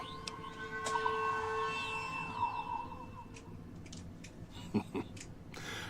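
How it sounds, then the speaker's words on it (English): Alarm sirens wail in the Sierra Madre area of Fallout New Vegas, sweeping up and down with tonal pitch glides, moderately loud over a low background hum, joined by scattered clicks near the end. "lights are flashing and sirens are screaming"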